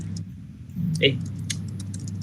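Someone types on a computer keyboard, with scattered light key clicks over a steady low background hum. A brief faint tonal blip sounds partway through.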